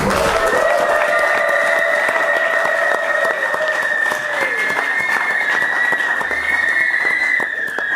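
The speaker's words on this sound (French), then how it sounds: "Acclamons pour le Seigneur." Sustained applause and acclamation from a wedding congregation, steady and dense throughout, with high sung or ululating voices drawn out above the clapping.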